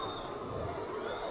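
A boxing arena crowd on its feet, chanting and roaring in a steady dense wall of voices, with no individual words standing out.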